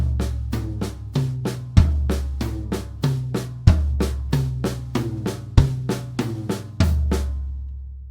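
Drum kit fill from a Grade 3 piece, moving around the high and mid toms: a steady run of about twenty clear, evenly spaced strikes with a few heavier accented hits, close and alone.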